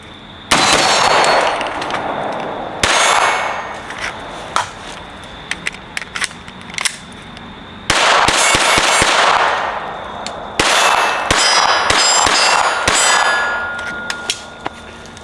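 Gunfire from emptying five magazines at targets: loud, sharp shots with metallic clangs from steel targets, fired in long rapid strings separated by short gaps.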